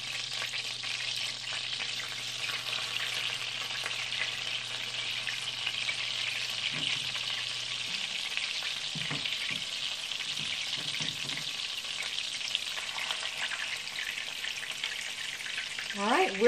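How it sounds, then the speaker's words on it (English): Steady sizzling of blackened salmon frying in a pan, a constant crackling hiss with faint background noises and a brief voice near the end. "It's not going crazy, but it is sizzling."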